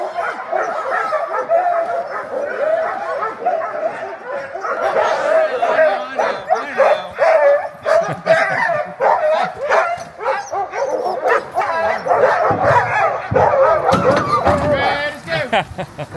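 Alaskan huskies at a dog sledding excursion in the snow, many dogs barking, yipping and whimpering near and loud in overlapping bursts, with people talking among them.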